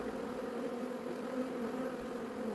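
Honey bees at an opened hive during AFB or EFB brood sampling, a steady, dense buzzing drone that holds level throughout, close and continuous with no talk.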